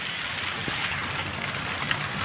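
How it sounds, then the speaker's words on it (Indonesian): Light drizzle falling over a corn field intercropped with other crops, a soft, steady patter of fine rain with a gentle hiss and no voices. "ini menunjukkan saat ini gerimis ya teman-teman"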